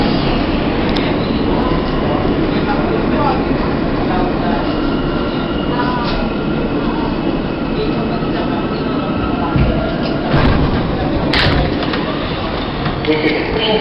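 A Queensbound F local train on the New York City subway runs between Broadway-Lafayette St and 14th Street, producing a steady loud rumble and rattle that fills the car throughout, with faint speech in the background.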